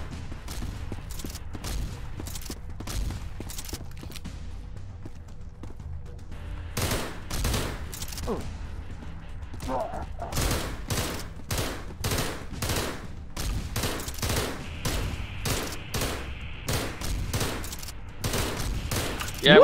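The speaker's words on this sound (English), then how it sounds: "As much as I do like this gun, ammo goes away too fucking fast." Gunfire from a weapon in the video game SCP Containment Breach, with rapid bursts of loud, sharp shots repeating in clusters across the span, and no speech over the shooting.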